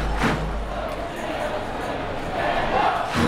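Stadium crowd cheering and roaring steadily at a soccer match between Chattanooga FC and the Chivas U23s near halftime, a dense, continuous wash of massed voices with swelling bursts at the start and end.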